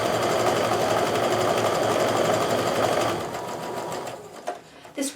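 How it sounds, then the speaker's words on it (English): A sewing machine sews a quarter-inch seam on a quilt block, a loud continuous rapid stitching rattle that eases off and ends with a few clicks. "I'm going to sew my first one together here."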